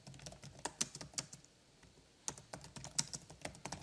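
Comments are typed on a computer keyboard in short bursts of close, crisp key clicks, pausing briefly midway before resuming at an uneven rhythm.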